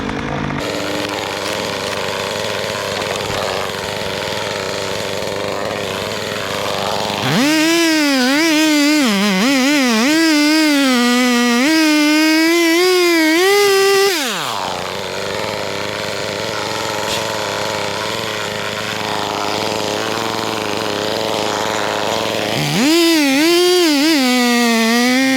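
A Stihl chainsaw revs loudly at close range while cutting through a dead tree being felled near a building, its whining engine pitch shifting under load, with lower idling stretches between the two main cuts.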